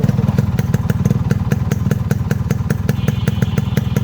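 Yamaha RX100 two-stroke motorcycle idling up close, a loud, steady, even popping exhaust beat with regular rhythmic pulses and no voices.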